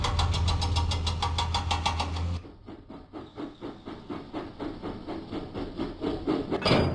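James the steam engine from a Thomas & Friends video game chugs out of the docks with steady, rhythmic puffs after a brief louder mechanical passage, the chuffs close and moderately loud.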